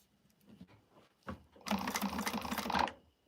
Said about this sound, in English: let me top stitch these, and then it'll be easier to make my marks from the sides